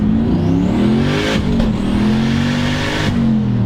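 A Volvo car launches hard using launch control, its engine droning loud and close as the revs climb steadily, with brief breaks for gear shifts partway through. No one speaks.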